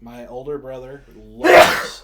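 A person speaks briefly, then a single loud, sharp sneeze bursts out close by.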